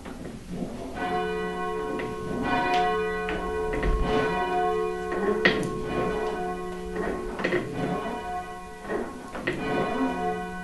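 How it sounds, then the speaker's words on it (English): A church tower bell at St Peter's in Tiverton, rung by rope, strikes repeatedly with rich ringing overtones that overlap and sustain, steady and fairly loud, with rope and mechanism knocks between strokes and no talking. "just check the bell is actually down, so I don't get a nasty surprise when I pull"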